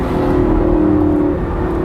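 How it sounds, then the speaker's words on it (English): A Lamborghini Gallardo LP560-4 Spyder on a road drive, its active exhaust opening into a loud, close, sustained engine drone with a steady rumbling tone and no talk over it. "Hear that active exhaust open up."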